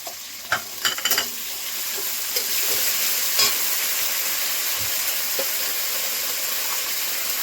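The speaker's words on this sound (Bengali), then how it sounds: "কিছুক্ষণ ভেজে নেব।" Bottle gourd frying with cumin paste and salt sends up a steady, close hiss of sizzling oil, with a few early clinks and scrapes of a utensil against the pan before it settles into an even sizzle.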